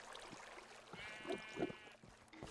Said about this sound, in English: Sheep back over here.